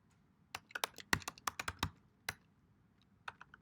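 Fingers tap out a password on a computer keyboard, in two quick uneven bursts of close, crisp keystrokes with a short pause between them and a few scattered taps at the end. No one speaks.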